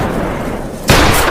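Gunfire in a film gunfight among trees: a sustained roaring wash of noise with a sharp, louder burst near the end, suggesting a close shot amid heavy background rumble.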